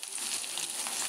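Chopped onion sizzling in hot oil in a pan with panch phoron, one cardamom pod and two cloves, giving a steady, close, broadband crackle and hiss with no pauses and no voices.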